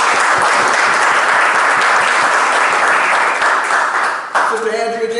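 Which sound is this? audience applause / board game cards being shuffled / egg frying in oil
audience applause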